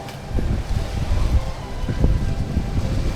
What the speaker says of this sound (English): I mean, super windy.